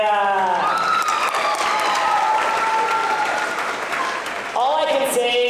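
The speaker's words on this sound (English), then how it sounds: "Let's give a big round of applause for Michael and Tanaya." An award show crowd applauds loudly and steadily, with a few cheers mixed in and a speaking voice over the clapping near the beginning and end.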